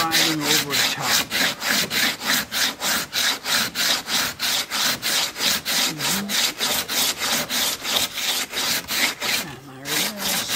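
Hand sanding of filler on a cracked Catalina 25 boat forehatch: steady back-and-forth rasping strokes about three per second, close and loud, with a brief pause near the end.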